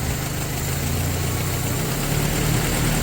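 A 1984 Toyota 4Runner engine runs at a steady idle, a constant low rumble with mechanical vibration and a hum, loud and close, with no talking over it.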